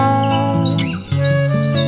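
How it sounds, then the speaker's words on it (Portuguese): A red-bellied wren sings a bright, tonal song of chirps and whistles. It is loud and steady, with sustained harmonic tones underneath and a brief dip in the middle, and no voices are heard. "Canta a garrincha de barriga vermelha"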